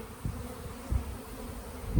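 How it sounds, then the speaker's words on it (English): Honey bees buzz steadily around a top bar hive being moved over into a Langstroth hive, a continuous close drone with a few louder low bumps as bees swirl near the comb. "So that means busy bees, trying to get them cleaned off to have an empty bar"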